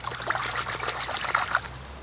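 Tap water trickles and splashes over a freshly cleaned river trout, a steady close wash of running water lasting a couple of seconds.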